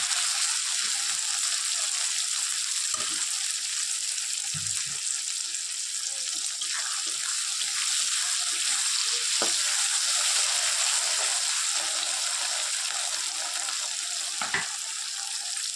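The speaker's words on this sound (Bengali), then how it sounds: "একটু ভাজা ভাজা করে নেব, তারপরে কিন্তু পেঁয়াজ কুলিটা এর মধ্যে দিয়ে দেবো।" Small puti fish fry in a pan with a steady, moderately loud sizzle that runs throughout, dotted with occasional soft knocks and clinks.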